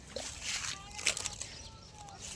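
Irrigation water pours and sloshes into a farm field, a close, continuous splashing flow with faint voices in the background.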